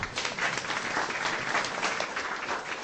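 An audience bursts into continuous, dense applause at a talk, the sustained clapping filling the room at an even level with no speech over it.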